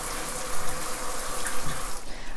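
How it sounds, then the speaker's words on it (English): A bathtub tap and a shower run together indoors, giving a steady, close, full rush of splashing water that eases slightly near the end. "So I'm gonna go ahead and turn on the bathtub and the shower."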